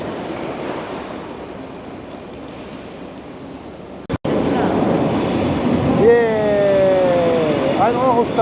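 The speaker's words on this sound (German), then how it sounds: "Ein Eurostar!" A Eurostar train enters an Amsterdam station platform, with a sharp clack partway through followed by rising rail rumble and high wheel squeals, while people talk nearby.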